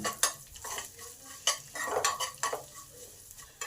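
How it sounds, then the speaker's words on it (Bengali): White sesame seeds are stirred into a frying mixture in a pan, with irregular spoon scrapes and clatters over a faint sizzle, close up and quiet with no voices. "এই তিলটাকেও ভালো করে এর সঙ্গে একটু নেড়ে নিলাম"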